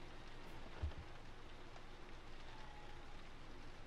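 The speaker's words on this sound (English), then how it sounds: "Oh, it's raining outside." Steady, soft hiss of rain falling, a constant wash of drops with no break, heard from a distance and without voices.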